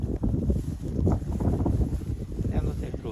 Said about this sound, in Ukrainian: вітер дує, може буде задувати